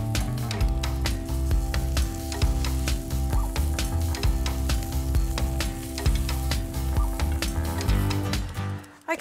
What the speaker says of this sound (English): I'm going to add my wedges of radicchio, and you want to hear that sizzle.